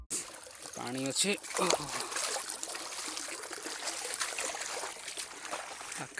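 Water trickles and splashes steadily from a jungle waterfall, close and continuous. A voice speaks briefly near the start, and the flowing water carries on alone after that.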